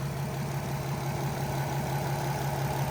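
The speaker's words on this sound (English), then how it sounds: "the R32 engine is running. It's just sticking about, idling." An Audi R32 engine idles steadily with a low, even hum and no revving, continuous from start to finish.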